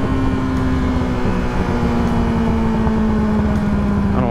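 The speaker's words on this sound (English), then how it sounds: "I don't want to be anywhere near that fucking truck" A loud truck rumbles close by, a steady heavy engine drone with a sustained tonal hum running throughout, no voices over it.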